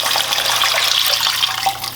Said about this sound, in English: So we add 2 cups of water.